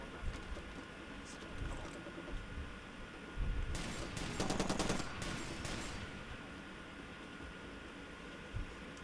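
Auto shotgun fire in a video game, a faint rapid burst of repeated shots in the middle over a dull background rumble, with scattered single thumps before and after.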